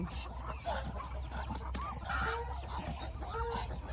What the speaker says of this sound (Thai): ปล่อยให้เป็ดเขาคุยกันแล้วกันนะคะ